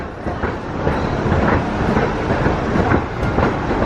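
Roller coaster train running along its track at Blackpool Pleasure Beach, a steady rumbling clatter with rhythmic wheel clicks, moderately close and continuous with no voices.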